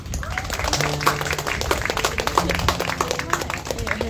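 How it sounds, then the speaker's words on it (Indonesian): Wedding guests clap for a newly married couple at a ceremony in Bali, a steady patter of many hands with a voice talking over it. "Mari kita sambut dengan tepuk tangan."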